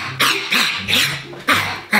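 A person imitates a dog barking, giving five loud, close, rough woofs in quick uneven succession, with nothing else heard.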